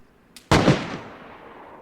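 Gunfire in the survival game DayZ: a faint click-like pop followed by one sharp, loud shot with a decaying echo tail, heard alone.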